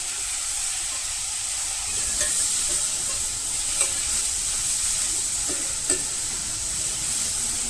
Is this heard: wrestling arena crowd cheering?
no